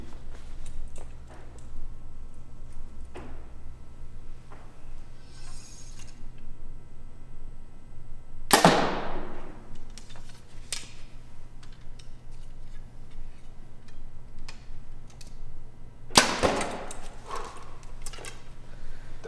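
Two sharp, loud whooshing snaps several seconds apart, arrows loosed from target and hunting bows at 10 and 20 yards, with faint ticks and clicks in a quiet room between them.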